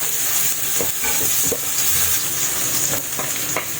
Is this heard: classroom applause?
no